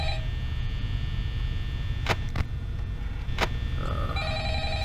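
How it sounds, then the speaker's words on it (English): An old-style telephone bell rings in the Five Nights at Freddy's horror game, a couple of sharp bursts over a constant low electrical hum and drone. "Phone is so annoying."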